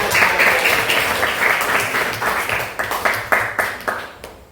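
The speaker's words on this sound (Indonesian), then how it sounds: "Tepuk tangan." A classroom of students claps together after a quiz question in an Islamic inheritance law lesson; dense applause breaks into a few loud, rhythmic unison claps that fade out near the end.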